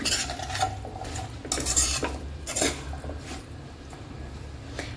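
Aloo methi with salt being stirred in a pan, a spoon scraping and clinking against the metal in bursts over a soft sizzle, close and alone.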